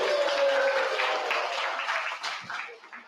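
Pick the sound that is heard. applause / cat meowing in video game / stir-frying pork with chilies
applause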